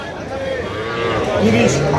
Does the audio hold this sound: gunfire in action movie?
no